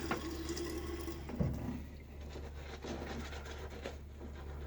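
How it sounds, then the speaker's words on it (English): Wet shaving brush swirled into a soap puck to load lather, giving soft wet scratching and swishing with a brief splash of water near the start. "take a little bit of water, add it to my brush, and just go into my puck for a couple seconds here"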